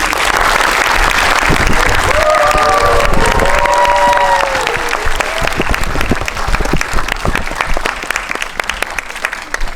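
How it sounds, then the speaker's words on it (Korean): Audience applause fills a Korean film screening hall as guests step onto the stage for a Q&A on Concrete Utopia, steady dense clapping mixed with some crowd noise and a few voices, thinning slightly toward the end. "뜨거운 박수로 환영 부탁드릴게요"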